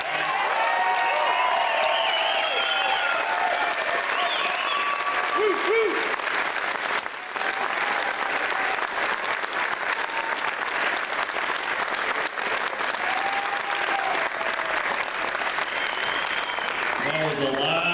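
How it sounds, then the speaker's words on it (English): Sustained audience applause after a school performance, steady dense clapping from a crowd lasting throughout, with some cheering and voices mixed in. "Let's give him another round of applause."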